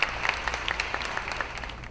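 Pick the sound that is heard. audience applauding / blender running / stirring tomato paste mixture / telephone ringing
audience applauding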